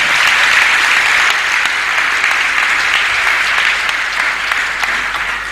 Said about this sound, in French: Est-ce que quelqu'un peut acclamer encore très fort pour le Seigneur?